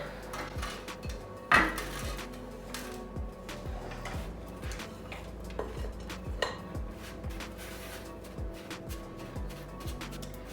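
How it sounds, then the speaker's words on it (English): A spoon pressing and scraping chocolate protein flapjack mixture flat in a small metal baking tray, with repeated dull clanks and scrapes, one louder knock early on, close and steady. "So then I just flatten it with a spoon."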